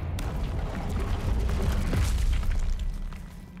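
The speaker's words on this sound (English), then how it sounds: "We can blast." A Confringo blast spell from the video game Hogwarts Legacy erupts as a loud, sustained booming burst with crackling debris that swells and then fades over a few seconds.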